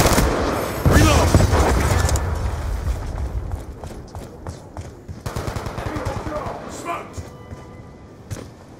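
Death Machine minigun in Black Ops 2 firing in dense bursts, rapid continuous rattling loud at the start and easing off, with game voice callouts and effects mixed in.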